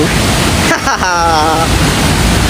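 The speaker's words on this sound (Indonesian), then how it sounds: "Kalian bisa lihat bagaimana derasnya curug itu" A rushing waterfall at the foot of the falls, loud broadband roar throughout with a brief tonal voice-like sound in the middle.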